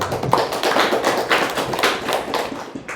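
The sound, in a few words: audience applause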